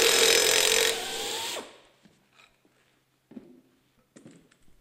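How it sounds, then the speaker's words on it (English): A power tool loosens the impeller screw on a water pump whose impeller is locked with a screwdriver, a loud whirring burst for under two seconds that winds down, followed by scattered faint metallic clicks and handling sounds. "He locks the impeller with a screwdriver and loosens the impeller screw."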